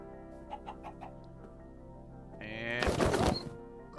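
Minecraft chickens spawned from a spawn egg in a video game, giving a few soft cluck-like calls early on, followed by a louder burst of game sounds near the end.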